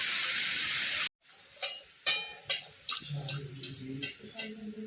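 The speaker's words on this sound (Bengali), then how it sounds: "এই যে লুচি ভাজা হচ্ছে" Luchi deep-fries in hot oil, first a loud dense hiss, then after a brief break a quieter bubbling sizzle with a series of sharp ticks and pops.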